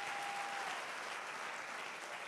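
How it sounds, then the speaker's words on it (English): A church congregation at a prayer and fasting service claps their hands together, a steady wash of many hands clapping in unison that holds evenly throughout. "Give a hand clap to Jesus."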